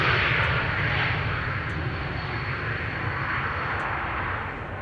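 A Martinair airliner passes near a runway at Amsterdam Schiphol Airport, its engines a steady, broad roar that holds loud throughout and eases slightly at the end.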